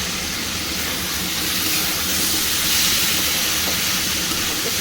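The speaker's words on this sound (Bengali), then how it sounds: "তাতে এবার দিয়ে দেবো এই চিংড়ি মাছটা" Prawns drop into hot spiced oil for a prawn and kochur loti dish, giving a steady, dense sizzling hiss that swells slightly midway and continues close and fairly loud with no talking.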